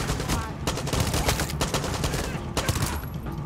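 Rapid bursts of gunfire crackle continuously, with sharp repeated shots and a busy, loud battle texture throughout.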